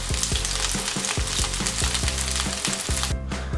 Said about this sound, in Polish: Obróciłem płomiennicę zimową na drugą stronę i będę smażył jeszcze też około